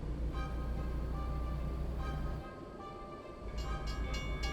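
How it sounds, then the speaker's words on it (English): Trains roll through a town setting, a steady loud rumble with horn-like tonal lines that dips briefly midway before the train noise swells again, with no talk. "constant trains. I don't want to come back here to this part of town."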